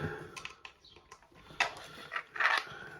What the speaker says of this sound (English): So I'm just gonna pop the hose on.